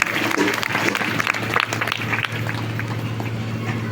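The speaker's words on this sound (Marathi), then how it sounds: "100 कोटी टाळ्या वाजवा." An audience claps at a Marathi religious discourse in a village gathering, a dense, continuous wash of applause heard from within the crowd and holding steady throughout.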